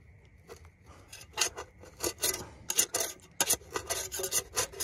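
Metal cheese slicer used as a scraper on a stove top, giving a quick series of close, rough rasping strokes in bursts with brief gaps, no talking.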